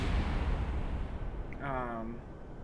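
Rumbling rocket explosions from a Kerbal Space Program launch of a Falcon Heavy style rocket, a loud low roar that fades, then a tonal voice-like sound over the tail end.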